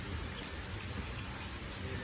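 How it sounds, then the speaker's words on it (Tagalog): Steady, dense rain falling outdoors on a farm during a vegetable harvest, a continuous close hiss with no pauses. "kung makikita nyo, umuulan talaga dito sa amin"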